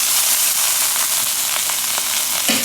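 A stuffed beef roll browns in a hot pan with a steady, loud sizzle and frying hiss, plus a few faint scrapes as it is turned.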